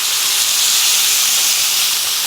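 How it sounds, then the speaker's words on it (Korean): Seasoned beef stir-fried in an oiled frying pan, a loud, dense, continuous sizzle with a steady hiss that holds without a break throughout. "자, 여기에다가 조금 전에 준비한 고기를 넣고 볶아주도록 할게요."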